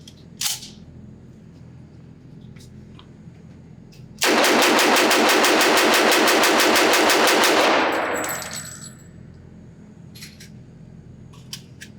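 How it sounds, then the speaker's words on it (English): Rapid string of .45 ACP shots from a SITES Spectre HC pistol emptying its magazine at a range, a loud, dense burst lasting several seconds after a quiet lead-in with a few faint clicks. "If you have a gun like this, you want to shoot it fast because originally it was a submachine gun."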